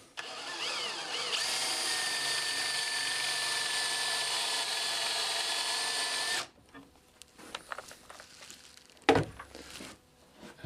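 Power drill with a Forstner bit boring into the wood of an antique split table top, a loud steady whine running for about six seconds before cutting off, followed by faint handling clatter and one sharp knock.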